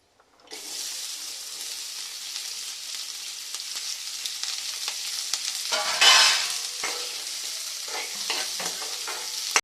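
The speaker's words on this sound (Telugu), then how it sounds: "రెండు స్పూన్ల నూనె వేసుకొని ఉల్లిపాయలు వేయించుకోవాలి" Onions frying in two spoons of oil for a ridge gourd curry, a steady close sizzle with stirring clatter and a brief louder burst partway through, no voices.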